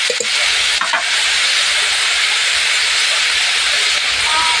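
Egg chowmein frying in a pan, with a steady loud hiss and sizzle throughout and a few faint scraping clicks of stirring near the start.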